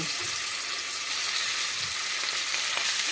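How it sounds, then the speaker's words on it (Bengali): Fish pieces fry in a little hot oil for a coconut-milk fish curry, making a dense, even, close sizzle that holds steady throughout with no speech. "তেলটা আমার গরম হয়ে গেছে এ দেখুন তেলটা গরম হয়ে গেছে মাছগুলো এক এক করে এর ভিতরে দিয়ে দেব"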